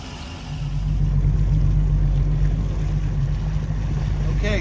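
Cole Skier boat motors on Lake Havasu after nine years of storage, its engine swelling into a steady, close, rumbling drone with wind and water rush layered on top.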